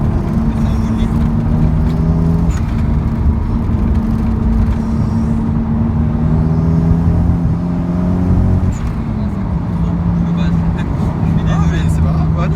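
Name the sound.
Toyota Supra bi-turbo engine intake and turbos whooshing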